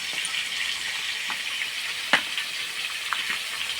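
Potatoes frying in a pan for a vegetarian potato and pointed gourd curry, a steady close sizzle throughout with a few brief spits and pops, no voices.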